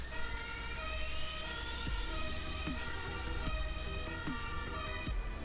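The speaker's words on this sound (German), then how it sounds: "das Martinshorn." A fire engine's two-tone Martinshorn siren from the farming game Landwirtschafts-Simulator 17 wails continuously and loud over a low vehicle rumble, with repeated clicks spaced through it.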